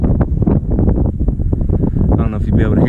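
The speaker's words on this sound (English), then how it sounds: "I don't know if you'd be able to hear me with all the wind" Strong wind buffets the microphone at a mountain lookout in the Smoky Mountains, a loud continuous low rumble with gusts, while a person talks throughout.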